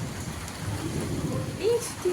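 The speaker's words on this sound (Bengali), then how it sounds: "একটু একটু বৃষ্টি হইতেছে" Steady rain patters and hisses in the background, with faint voices and a brief tonal sound near the end.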